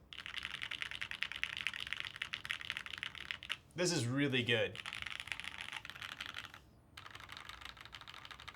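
Steady, fairly quiet typing on an FLX Virgo mechanical keyboard, with dense clacking keystrokes running throughout and a person briefly talking over it midway.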